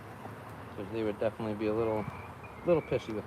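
Honeybee colony buzzing while the hive is cleaned during an inspection, a steady insect drone running beneath close, loud speech throughout.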